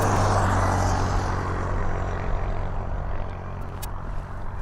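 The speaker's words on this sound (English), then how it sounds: "there should be fairly soon a UPS taxiing" A UPS cargo plane taxis at East Midlands Airport, a loud, steady engine roar and rumble that holds throughout and fades slightly toward the end.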